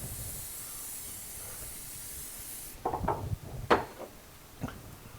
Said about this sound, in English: Use a little spray, your kitchen no-stick spray, and spray the